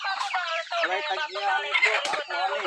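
Chickens and a rooster on a farm cluck and call continuously and close by, with a layered chorus of overlapping clucks and a rough crowing note.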